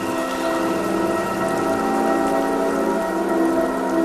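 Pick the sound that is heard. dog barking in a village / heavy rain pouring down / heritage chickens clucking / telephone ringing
heavy rain pouring down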